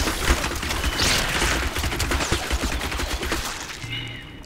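Sustained gunfire from Diablo III, a dense crackling barrage of shots and impacts under game noise that fades near the end.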